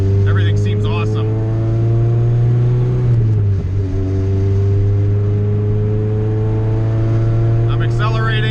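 Honda CRX with a naturally aspirated B20 VTEC engine running on E85, a steady loud engine drone that dips briefly and then holds, with a voice talking over it throughout.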